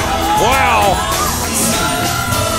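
A wrestling crowd at a JCP television championship match cheers and yells loudly throughout, with high whoops and shouts rising over a dense, steady roar of the audience.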